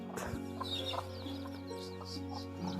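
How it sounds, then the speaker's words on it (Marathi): Hens with their small chicks make soft clucks and chirps at close range, set against a steady low hum. "ही 2 कोंबड्या आहेत, त्यांची छोटी छोटी पिल्लं आहेत"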